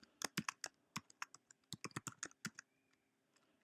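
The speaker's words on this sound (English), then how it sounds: "you could just type in your HTML, whatever you want to type in." Quiet, close typing on a computer keyboard, with irregular bursts of sharp key clicks and short pauses between them, and no voices.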